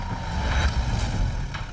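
Vehicle reversing in a tense movie heist scene, a heavy engine rumble droning steadily with a few faint, high beeps riding over it and no voices.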